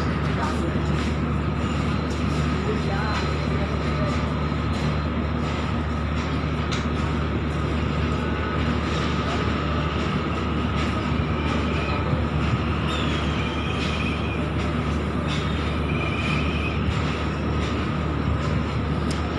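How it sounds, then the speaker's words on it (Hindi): A coal-laden freight train from the Dhanbad coal mines rolls through Ahmedabad railway station, its loaded wagons producing a steady, close, continuous rumble and clatter that holds evenly from start to finish. "ये धनबाद से आ रही है, अहमदाबाद रेलवे स्टेशन क्रॉस कर रही है मालगाड़ी क्रॉसिंग।"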